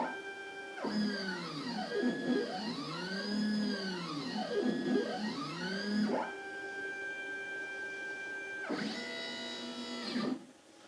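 An X-Carve 750 mm CNC machine runs a test job, its stepper motors whining in sweeping rising and falling tones, then holding steady pitches after a short pause, close and moderately loud with no talking.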